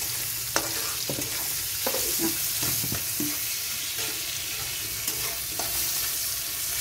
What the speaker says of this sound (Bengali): দেখুন এটা পেঁয়াজটা একটু ভাজতে হবে। পেঁয়াজটা ভাজি, রসুনও দিলাম।